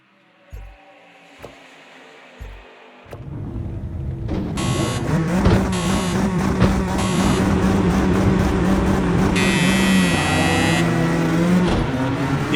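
GT race cars in the video game Project Cars 2: a few menu clicks, then a loud, sustained engine roar swells as the pack launches, with whining revs and overlapping cars.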